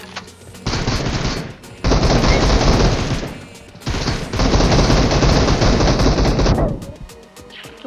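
Loud, rapid automatic gunfire from a video game team deathmatch, in long sustained bursts separated by short pauses, close and dominant.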